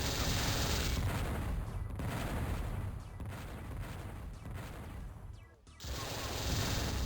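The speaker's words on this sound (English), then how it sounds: "Melvin emptying a lot of Vulcan ammo there." Vulcan gun firing in a Descent-style video game tournament match, a dense rapid stream of gunfire bursts that dips briefly before resuming, loud and continuous.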